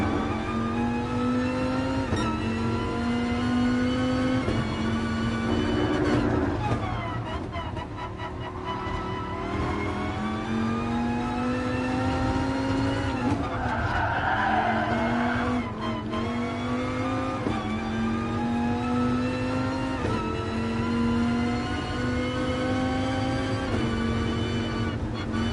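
Race car lapping the Nürburgring at night in a racing video game, engine revving high and shifting through gears repeatedly, with brief tire squeal and downshifts under a constant close drone.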